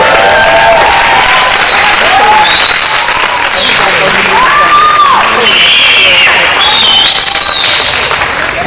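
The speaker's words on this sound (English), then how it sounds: "Let's give these gentlemen a round of applause." Loud, sustained applause from a banquet audience honoring a row of seventh-grade players, with dense clapping and scattered cheers and shouts rising over it throughout.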